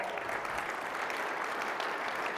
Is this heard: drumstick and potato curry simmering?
no